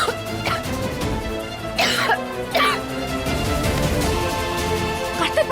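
A girl with a sore throat and no voice coughs hard several times in separate, harsh bursts, close and loud against a quiet indoor background.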